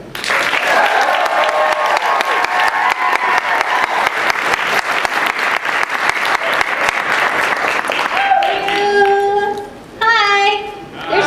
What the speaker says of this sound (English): I want a round of applause for Tia Ballard